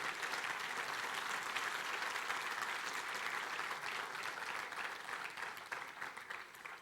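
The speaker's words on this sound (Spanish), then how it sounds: "dele fuerte aplauso al Señor si es para Él" Church congregation applauding loudly and steadily throughout, a dense wash of many hands clapping that thins slightly toward the end.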